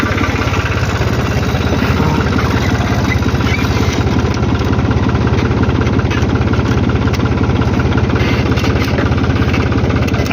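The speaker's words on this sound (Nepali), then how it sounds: "अब ट्र्याक्टरमा बस्छु" A tractor engine idles loudly and steadily at close range, its rapid knocking pulse running unbroken throughout with no voices.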